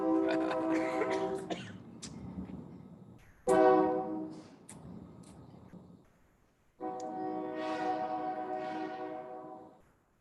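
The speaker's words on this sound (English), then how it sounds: "That's a real train, not a make-believe train this time." A real train horn blares in long harmonic blasts near a city council meeting in Lebanon, Oregon, three loud sustained honks separated by pauses, with faint rumble of the passing train between them.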